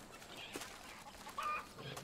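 Chickens in Far Cry 5 give a few short, soft clucks, with one brief sharper call near the end, over a quiet ambient background.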